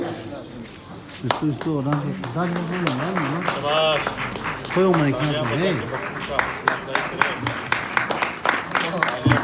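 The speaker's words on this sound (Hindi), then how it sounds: "तालियां बजाने में कंजूसी ना करें इकबाल साहब" An audience claps at a school annual day celebration, scattered sharp claps that thicken toward the end, heard under a voice speaking over a microphone.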